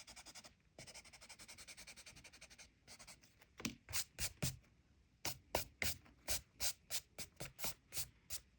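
Eraser rubbing out pencil grid lines on paper, first a continuous scratchy scrub, then a series of quick rhythmic back-and-forth strokes, close and fairly quiet.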